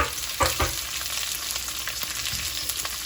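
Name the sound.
onions frying in oil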